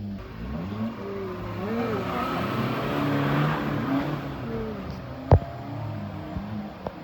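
Suzuki Jimny engine revving hard in deep snow while pulling a stuck gas car free, a sustained rising and falling roar with wavering pitch, ending in a sharp thump near the end.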